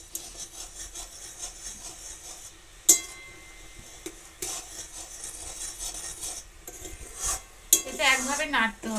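Homemade tomato sauce with sugar and vinegar is stirred in a pot on the stove, giving soft scraping and clinking of a utensil against the pot with a few sharper knocks, and a voice enters briefly near the end.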